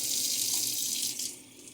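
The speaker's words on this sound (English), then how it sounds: "What is going on with this water?" Water pours steadily from a kitchen faucet into a sink, a continuous close hiss that eases slightly toward the end, with no voices.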